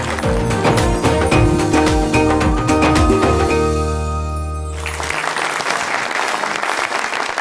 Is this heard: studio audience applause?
yes